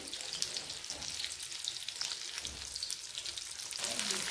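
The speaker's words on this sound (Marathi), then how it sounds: "तेल टाकायचं, यामध्ये ते वांगी सोडायची।" Eggplants sizzle steadily in hot oil in a pan, a dense continuous crackle and hiss that holds close and even throughout.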